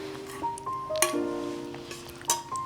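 Several bright, ringing clinks of a water glass, scattered and fairly close, each with a short metallic-like ring-out over a quiet room.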